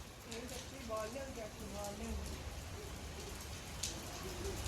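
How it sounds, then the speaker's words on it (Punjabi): Steady rain hisses across the whole clip while voices call out faintly in the background. "ਮੀਂਹ ਆ ਗਿਆ"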